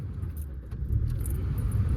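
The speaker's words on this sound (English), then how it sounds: "We're gonna turn on the car," A Saturn car with an engine misfire being started: keys jangle and the ignition turns, then the engine catches and settles into a steady running hum, close by with no talk.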